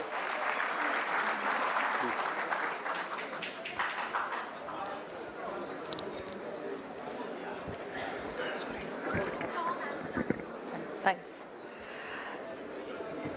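Audience applause at a CSC workshop session on Aadhaar, dense clapping from a room of people that swells at the start and fades over about ten seconds, with some talk mixed in.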